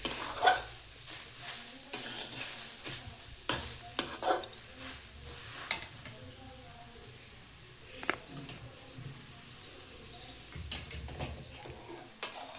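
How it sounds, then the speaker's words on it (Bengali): Grated carrots fry in ghee in a pan while being stirred, giving a soft sizzle broken by sharp scrapes and clinks of the spoon against the pan. "গাজরটা এখানে অনেকটাই ভাজা হয়ে গেছে।"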